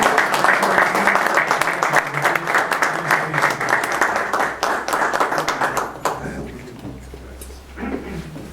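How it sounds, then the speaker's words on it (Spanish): An audience at a journalists' association event in Jalisco applauds a guest speaker, with dense, sustained clapping that gradually thins out and fades over several seconds. "recibir con un cariñoso aplauso de todos ustedes a nuestro conferencista del día de hoy"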